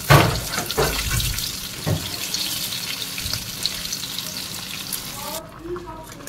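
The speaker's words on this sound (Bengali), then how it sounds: "আর ওদিকে চিলি চিকেনটাকে ভাজছি।" Chili chicken pieces sizzle loudly in hot oil, a dense continuous frying hiss with a few sharp clatters of stirring near the start, fading out toward the end.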